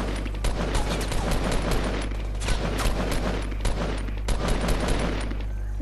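Dense Fortnite gunfire, rapid overlapping shots crackling continuously over a steady low rumble, loud and close throughout.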